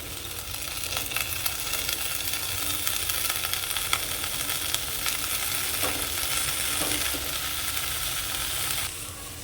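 Cleaned ponnaganti greens fry in a pan with turmeric, giving a steady, fairly quiet sizzle that runs evenly and cuts off near the end, with no voices.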